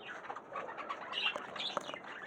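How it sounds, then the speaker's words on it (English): Pigeons in a village coo softly and repeatedly close by, mixed with light chirps and a brief flutter of wings, with no voices. "And now the pigeons."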